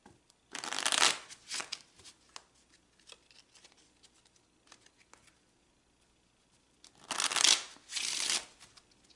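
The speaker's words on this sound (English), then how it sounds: "let's shuffle that into the cards" Oracle cards being shuffled up close, two quick riffling bursts separated by a long quiet pause with faint handling noises.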